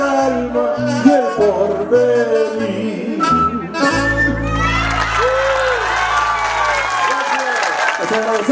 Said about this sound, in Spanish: Les agradecemos los aplausos.